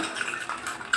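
A spoon stirs multani mitti (fuller's earth) and curd together in a bowl for a face pack, making soft, steady scraping and clinking against the bowl over one second.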